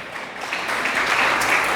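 Church congregation applause, a brief wash of many hands clapping that swells slightly and holds steady, heard from within the hall.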